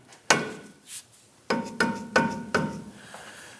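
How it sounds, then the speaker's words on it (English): A mallet taps a lower control arm into place on a 1997–2006 Jeep Wrangler, giving five sharp knocks, one alone and then four in an uneven run, close and clear with faint ringing metal between them. "you're probably going to want to use a mallet or something like that to tap this up and in"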